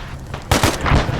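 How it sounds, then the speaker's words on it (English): Mortar fire in a video game, a sudden loud booming blast followed by a second rumbling impact, heard up close over a quiet background. "Mortars."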